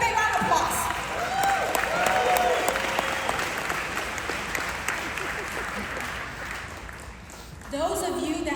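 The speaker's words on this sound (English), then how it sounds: "Give a big round of applause." Sustained applause from a convention audience, dense and steady for most of the stretch, dipping briefly near the end before swelling again, with a voice speaking faintly under the clapping.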